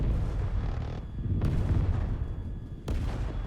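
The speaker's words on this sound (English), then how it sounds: "go ahead and fire a rocket onto one of them" A rocket strikes a T-62 tank in the flight combat game Tiny Combat Arena, a heavy booming blast over continuous engine rumble, with a second sharp impact near the end.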